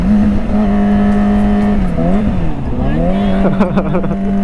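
Riding a Kawasaki ZX25R motorbike through traffic, its engine drones steadily and close. Revs dip and climb as it moves among other road vehicles.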